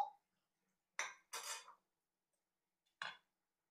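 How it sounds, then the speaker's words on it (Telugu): The metal lid comes off a cooking pot of mushroom curry with a few quick, separate clinks and a brief clatter, the strokes spaced apart in a quiet kitchen. "ఇప్పుడు మూత తీద్దామండి"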